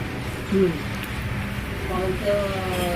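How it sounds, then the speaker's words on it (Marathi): Steady monsoon-style rain hisses throughout, a constant soft wash of drops, with a brief voice or bird-like tone rising above it now and then. "बनवता बनवता पाऊस आला"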